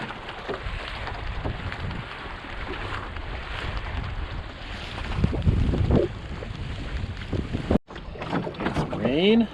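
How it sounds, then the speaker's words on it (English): Wind and light rain blow across a sailboat on a broad reach, a steady rushing breeze with water noise, gusting louder near the end with a brief dropout. "Some breeze and some raindrops."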